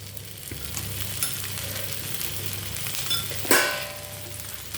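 A stuffed dosa fries in oil on a pan over low heat, giving a steady close sizzle with a brief louder hiss and a few utensil clicks partway through.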